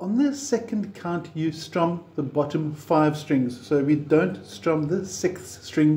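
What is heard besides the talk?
No everyday noise stands out behind the speech.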